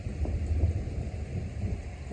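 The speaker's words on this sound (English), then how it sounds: "different kind of thunder" Low, rolling thunder from a lightning storm rumbles steadily at a moderate distance, with no voices over it.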